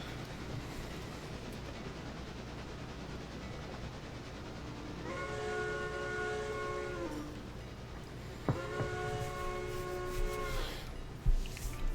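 Locomotive 901 in the railroad simulation game Railroader, rolling with a rumbling engine and clatter, then sounding two long horn blasts, the second starting with a sharp attack, over a steady bed of train noise.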